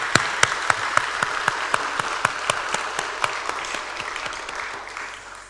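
A church congregation at a worship service claps together, a steady wash of applause punctuated by sharp, regular near claps, gradually fading toward the end.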